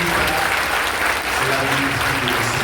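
A large audience applauds steadily and densely throughout, with a low murmur of voices mixed into the sustained clapping.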